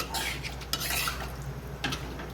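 Yogurt-marinated chicken with slit green chillies being stirred in a pot over a medium flame, a continuous broad hiss and rustle broken by two clattering knocks of a spoon against the pot, close by.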